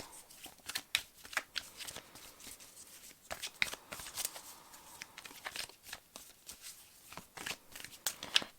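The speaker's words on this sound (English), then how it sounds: "let me take some more cards now" Tarot cards are shuffled and drawn by hand, a run of quick papery riffles and soft flicks in uneven bursts, close and fairly quiet, with no voice over them.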